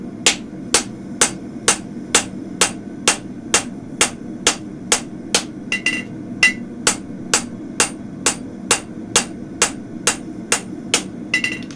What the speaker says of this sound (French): Pareil en ce qui concerne le marteau, là je travaille bien évidemment avec la boule pour avoir plus d'impact.